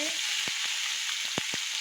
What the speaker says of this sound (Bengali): আলু পেঁয়াজটা ভাজা ভাজা হয়ে গেছে এবার দিয়ে দেবো আলুগুলো